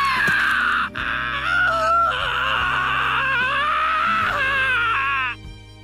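Sakashita, a character in The Fruit of Grisaia visual novel, shrieks in a loud, sustained, wavering high cry that runs without a break for about five seconds before cutting off.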